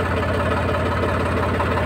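A tractor engine idles at a steady, even, low chugging rumble throughout, close by and continuous with no voices.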